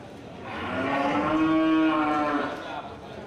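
A cow at an Indonesian livestock market selling Aceh cattle gives a long, loud moo lasting a couple of seconds, with steady low background noise and no talking.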